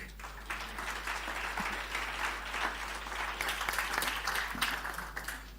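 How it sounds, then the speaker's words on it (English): An audience at a Kenya Power event keeps clapping while awaiting the board chair, a continuous, fairly subdued spatter of many hands that swells slightly, over a constant low hum. "Please keep clapping until she arrives."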